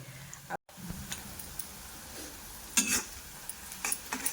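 Onions fry to golden in an iron kadhai, a light ongoing sizzle broken by several clattering spatula stirs against the pan, close up, with a brief dropout early on and no clear talk.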